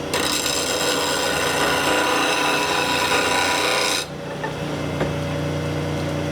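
A lathe tool is pressed to a bench grinder in a PSI sharpening jig, giving a loud steady rasping grind for about four seconds. The grind stops abruptly and the grinder's motor hum carries on alone.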